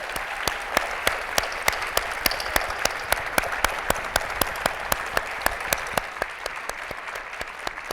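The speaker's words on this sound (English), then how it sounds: "I ask for your delighted and affirmative round of applause" An audience at a nonprofit network's annual meeting applauds steadily, sharp individual claps standing out in an even rhythm over a dense, sustained wash of clapping for the full stretch.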